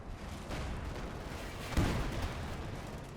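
Gunfire from a battle in Company of Heroes 2 rolls as a dense, rumbling barrage, with one heavier thump standing out in the middle, loud and continuous without speech.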